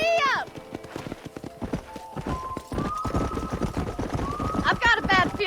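In the video game Red Dead Redemption a horse whinnies, then gallops with quick, rhythmic hoofbeats close by, while voices talk over the running.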